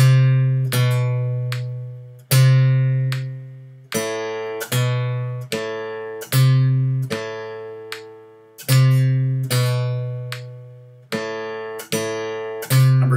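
Guitar plays a beginner music-reading exercise in time at 75 bpm, with a steady run of clear, ringing plucked notes in a regular rhythm, close and loud with no talking.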